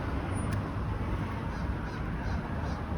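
A crow caws near Mimico Creek, a few faint calls under a steady wash of outdoor background noise.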